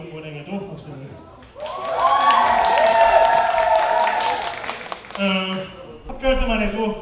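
Concert audience at a live band show in a Jeonju music venue breaks into about three seconds of loud clapping and cheering for the session musician, with someone talking before and after.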